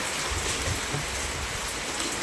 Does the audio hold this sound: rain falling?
yes